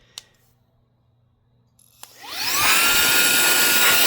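After a couple of faint clicks, a Reikiya mini handheld cordless vacuum, used as an air blower, whirs up and settles into a loud, steady high-pitched blowing whine that runs to the end.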